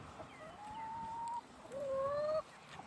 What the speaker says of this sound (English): Can I help you, chickens?